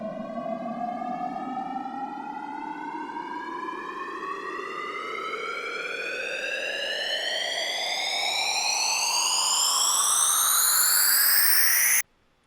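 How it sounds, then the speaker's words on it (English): A synthesized comb filter sweep riser climbs steadily in pitch for about twelve seconds, bright and resonant with swelling intensity, before cutting off abruptly; no voices. "So right here, this is a comb filter sweep from a sample pack that I'm currently making."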